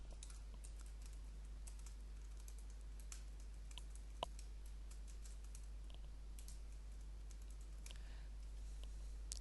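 Typing on a computer keyboard while entering C# code, a run of soft, quick key clicks at low level over a steady electrical hum, with one sharper tap standing out midway.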